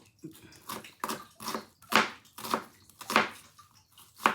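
A knife thinly slices onion on a board for coconut sambal, making a quick, steady run of about nine soft, close cuts with no talking.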